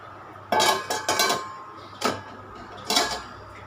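A lid being set onto a cooking pot of boiling kootu, a few sharp metallic clanks and rattles in a short cluster, close and fairly loud against a quiet kitchen with no talking.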